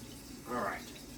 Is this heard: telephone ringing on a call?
no